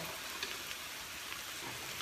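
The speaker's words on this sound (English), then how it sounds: "get ready for the nice big sizzle" Potatoes for hashbrowns sizzle in a pan over high heat with water instead of oil, giving a steady, fairly loud broadband hiss with faint crackles throughout and no talking.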